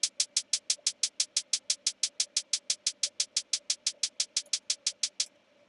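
A drum pattern of steady 16th notes programmed in Beat DJ software: about thirty crisp, even hits in a rapid unbroken rhythm, played alone with no voice.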